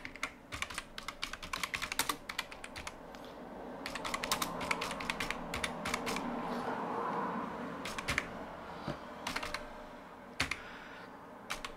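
Typing on a computer keyboard, quick bursts of crisp key clicks separated by short pauses, close and fairly quiet over a faint background hum.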